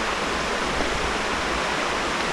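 River water rushing near Dudhsagar waterfall in Goa, a steady, loud broadband roar of flowing water that fills the whole stretch without a break, close by and with no voices.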